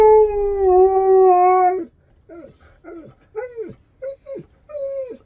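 A husky lets out one long, steady howl, then breaks into a series of shorter rising and falling yowls and whines, loud and close with no talking over it.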